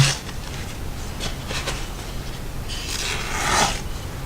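A single-bevel knife is rubbed on polishing finger stones for a kasumi finish, producing a steady, close, gritty rasping of strokes with no talking.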